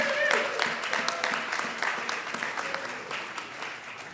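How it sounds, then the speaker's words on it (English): Audience applause at Temple Aliyah for a violinist, a dense round of clapping from a live crowd that fades gradually, with a voice talking over it. "Please give him a big round of applause"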